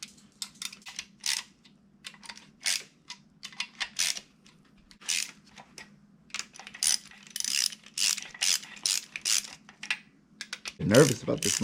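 A ratchet tightens the crank bearing caps on an LM7 5.3 LS engine, giving short bursts of crisp, close clicking over several quarter turns, with brief talk near the end.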